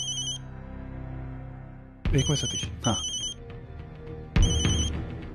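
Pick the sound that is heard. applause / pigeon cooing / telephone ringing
telephone ringing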